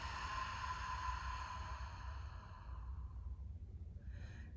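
A long, soft exhale during a guided breathing exercise, a faint airy rush that fades out over several seconds, heard close with no talking.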